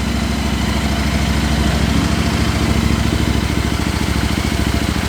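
A Triumph Tiger or KTM 390 Adventure motorcycle engine idles with a steady, loud exhaust rumble and a fast pulsing thump that continues throughout.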